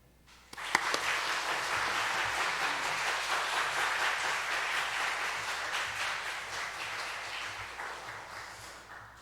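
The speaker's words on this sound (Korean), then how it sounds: "뜨거운 박수로" A church congregation breaks into warm applause during a worship service, starting abruptly and holding steady as a dense, moderately distant wash of clapping that slowly fades.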